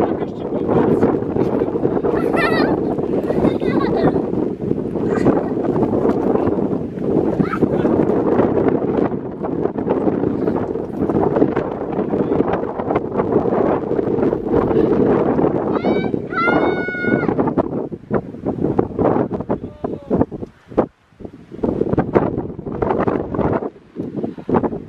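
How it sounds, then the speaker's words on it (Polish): Strong, bitterly cold winter wind buffets the microphone at Mahon Falls, a continuous loud roar with gusts, while people talk over it throughout. "Właśnie pilnujemy z moim bratem Lilki, żeby nam nie odfrunęła przy tym wietrze, który jest"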